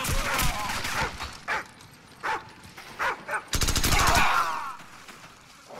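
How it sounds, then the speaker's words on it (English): A dog barks in short, sharp bursts amid rapid machine-gun fire and gunshots in the video game Call of Duty 4: Modern Warfare, loud and close, with a sustained volley near the end. "Here comes the dog."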